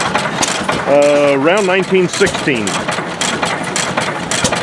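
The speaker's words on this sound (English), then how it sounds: "6 horse throttle governed Titan. Made by International Harvester Company." A restored 6 horsepower International Harvester Titan antique gas engine from around 1916, throttle governed and mounted on a sub base, chugs steadily at an outdoor crankup show while someone talks over the running engine.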